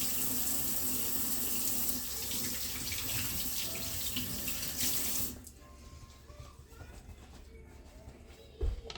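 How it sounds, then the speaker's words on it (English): A sink tap runs strongly while hands are washed beneath it, a bright steady gush of splashing water that cuts off about halfway, leaving a quiet room with faint small knocks and a sharp thud near the end. "I gotta wash my hand."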